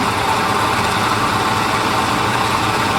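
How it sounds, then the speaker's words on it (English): A Dornier Do J Wal flying boat engine in Microsoft Flight Simulator runs at 1600 RPM with a steady, dense, loud drone that holds unchanged throughout; no one talks. "Let's advance the power to 1600 RPM."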